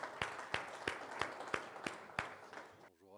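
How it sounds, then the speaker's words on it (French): Applause from a conference audience as a speaker is introduced, steady clapping with periodic louder peaks for about three seconds before fading to quiet. "Sous vos applaudissements."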